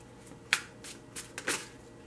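Tarot cards are briefly shuffled in a few quick crisp riffles and snaps, close up, with quiet pauses between.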